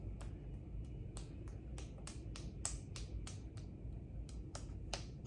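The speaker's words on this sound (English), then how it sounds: "And you're still clapping." A small child clapping hands indoors: sharp, light claps in an uneven rhythm, about fifteen over several seconds, fairly close but soft, with no talking.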